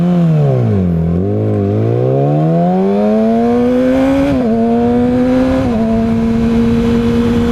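A Lamborghini Huracan accelerates hard, its engine note rising and falling then climbing steadily through the revs with brief shift dips, loud and close, alone without talk.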